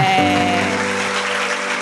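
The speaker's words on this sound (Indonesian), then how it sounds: "Tepuk tangan buat kalian semua" Audience applause at a PSMB 2023 student orientation event, a dense, steady wash of clapping filling the room, with sustained tonal music running underneath.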